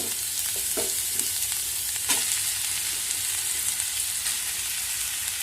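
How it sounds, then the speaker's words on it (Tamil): Powdered tapioca mash for bonda is stirred in a pan, a continuous close hiss with a few soft scraping strokes early on and near the middle, no voices. "ஸோ கொட்டி நல்லா கிளறிக்கோங்க."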